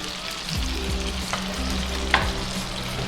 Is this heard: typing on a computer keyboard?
no